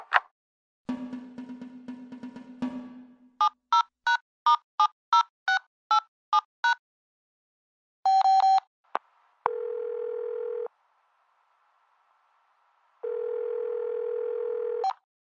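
A short beep and a burst of static give way to a quick series of touch-tone dialing beeps, then a steady dial tone, repeated.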